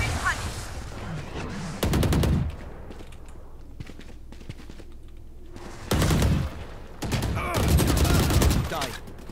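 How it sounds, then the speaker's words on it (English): Shotgun fire in the tactical shooter Valorant, several loud booming blasts in separate bursts with quieter game sounds and voice lines in between. "Shotgun."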